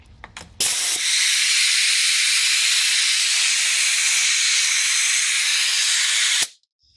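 A Harbor Freight Central Pneumatic 68027 palm nailer hooked to a compressor at about 90 PSI, leaking air in one loud, continuous hiss that starts abruptly, holds steady for over five seconds, then cuts off sharply.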